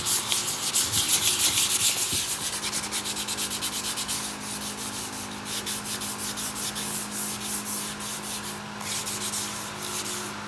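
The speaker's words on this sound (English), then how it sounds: "So just take your piece of sandpaper, dip it in some water, and sand down the metal." A metal header from a JDM Civic race car is wet sanded by hand with 400 grit sandpaper, giving close, rhythmic scraping strokes that repeat steadily throughout, alone and without talk.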